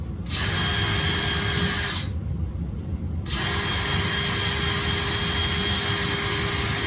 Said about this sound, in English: I'm going to pre-drill my holes. I'm going all the way through.